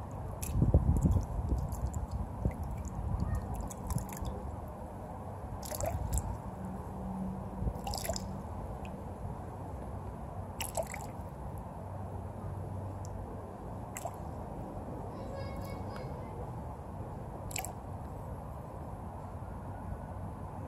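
Water from an above-ground swimming pool is poured out of a small test vial to reduce it to a measured level, giving faint intermittent drips and trickles with soft handling noises, close by.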